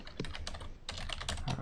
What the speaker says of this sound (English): my keyboard's like super loud